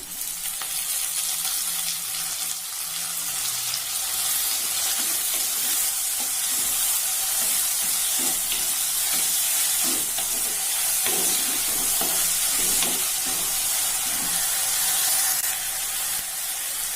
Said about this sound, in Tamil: வெங்காயம் கொஞ்சம் வதங்கியாச்சு. தக்காளி சேர்த்துக்கலாம்.